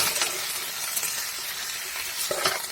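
Vegetables fry with salt in a covered pan, giving a steady, loud hiss of sizzling broken by occasional sharp crackles and stirring scrapes, with no voices.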